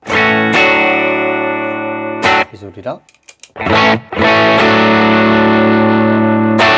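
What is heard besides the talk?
electric guitar played through effects pedals including delay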